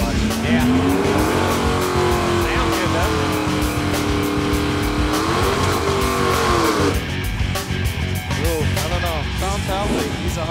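A drag racing car makes a loud, continuous engine roar through a pass at a bracket-racing game show, its pitch rising and holding steady before changing near the end, with commentators talking over it.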